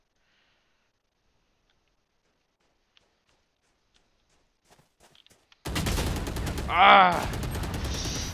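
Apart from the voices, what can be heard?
sniper rifle gunfire in the video game Valorant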